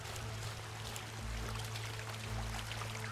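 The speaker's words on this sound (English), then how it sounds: "Okay, I like the water sounds." Flowing, pouring water in the video game Robin Hood - Sherwood Builders streams steadily and evenly throughout, with a low background hum beneath it and no talking.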